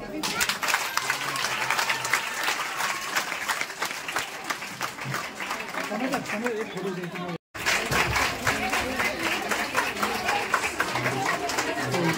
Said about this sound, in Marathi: चलो एकदा एकत्र टाळी वाजूया।